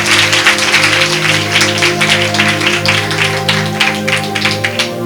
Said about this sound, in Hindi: जोरदार ताली उस परमेश्वर के लिए बजाएंगे